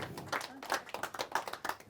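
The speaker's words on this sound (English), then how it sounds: "Let's have a big round of applause for Mary Pat Valentino" A short burst of audience clapping at a nutrition talk, a brisk round of hand claps with voices speaking over it.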